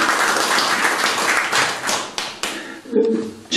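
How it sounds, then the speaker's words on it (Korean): Applause from an audience at a Korean media association's first anniversary ceremony, a dense patter of clapping that fills the room, then tapers off briefly and swells again near the end. "박수 한번 주시기 바랍니다"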